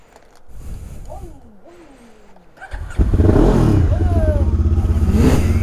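Motorcycle engine, a Honda CB500, revving up loud and close with a steady throbbing rumble after a quieter idling start, while people talk nearby.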